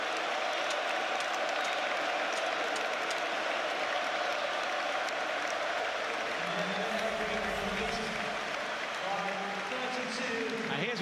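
Arsenal football fans in a stadium applaud a substituted player, a broad, continuous wash of clapping and crowd noise, with a commentator's voice heard over it partway through.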